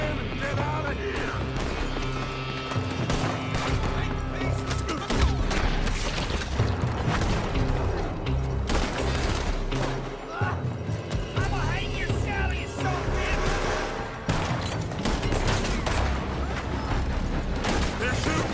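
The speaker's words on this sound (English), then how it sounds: "They're shooting from that building." Red Dead Redemption 2 gunfight with shots fired from a building, loud repeated booms and cracks layered over dense game noise and music, with voices talking over it.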